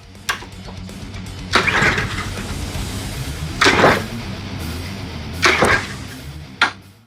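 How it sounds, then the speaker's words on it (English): A Troy-Bilt lawn mower engine is cranked over and over but fails to start: five or so loud bursts of cranking churn, each ending abruptly, separated by quieter pauses. "I'm gonna leave this off for 1 second while I try to start it, just to see if it's gonna go through or not."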